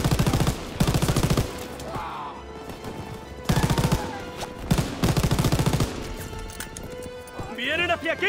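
Bursts of rapid automatic machine-gun fire in Call of Duty: WWII's Normandy landing, loud rattling volleys in several stretches, with voices talking in between.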